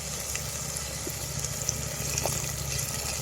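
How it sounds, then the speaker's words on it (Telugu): Water goes into a hot cooking pot with curry in a village outdoor kitchen, making a steady loud hiss and bubbling rush that runs unbroken throughout with no talk over it. "కొన్ని వాటర్ పోసుకుందాం."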